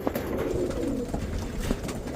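Pigeons, including a Kasuri young bird and a Saharanpuri pair, cooing close by in a loft, soft throaty coos repeating over a constant low murmur.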